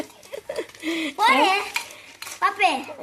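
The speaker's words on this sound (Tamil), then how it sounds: "நீங்கள் நல்லா வதக்குங்க வெங்காயமே வெங்காயம்லாம் வதங்கிடுச்சு" Onions are stirred and sautéed in a clay pot with steady scraping and a faint sizzle. Voices talk loudly over much of the cooking sound.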